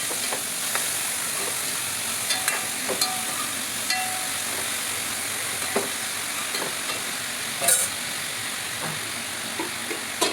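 Sliced bitter gourd with chopped ginger, green chili and onion sizzles steadily in a hot pan, with occasional scraping stirs and light clinks of a spoon, no talking.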